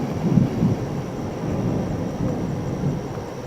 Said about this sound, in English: We just had a storm move through, not a whole lot of rain, nothing like that, but we've had some lightning